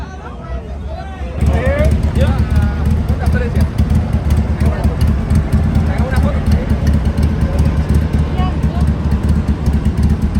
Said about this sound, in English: The motorcycle is still running